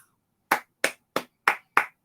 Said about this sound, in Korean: 박수입니다, 박수